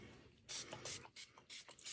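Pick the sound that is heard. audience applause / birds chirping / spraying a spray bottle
spraying a spray bottle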